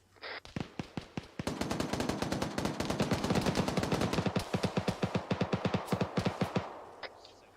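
Rapid machine-gun bursts from video-game squad training: dozens of sharp, fairly loud shots in quick succession that hold a steady rhythm for about six seconds, then taper off to a few last rounds.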